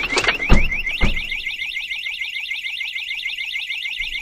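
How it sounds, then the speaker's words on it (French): Car alarm siren going off inside a vehicle during a daytime break-in in Italy, a loud rapidly warbling electronic wail starting after a couple of door thuds and repeating continuously. "c'était sans compter sur l'alarme qui s'est déclenchée"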